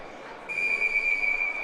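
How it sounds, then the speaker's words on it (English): A referee's whistle blows at a varsity high school ice hockey game between East Islip and Middle Country. One shrill, sustained blast cuts through the arena's background noise and holds steady for more than a second. "Referee will blow the whistle."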